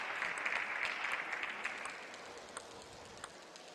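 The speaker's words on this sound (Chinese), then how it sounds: "大家都站起来鼓掌。" Spectators at a 2016 China Super League table tennis match stand and clap, a crowd applause that starts fairly strong and gradually thins out to scattered claps by the end.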